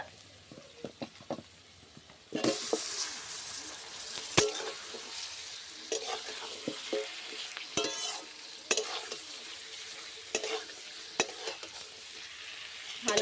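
Marinated chicken dropped into a pan of lightly fried onion and garlic bursts into a loud sizzle after a quiet opening, then frying continues with repeated scraping and clacking of a spoon stirring, with no one talking.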